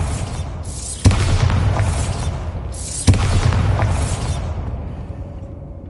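Two Bombarda blasting spells in Hogwarts Legacy go off a couple of seconds apart, each a sharp loud boom that spreads into a long rumbling decay.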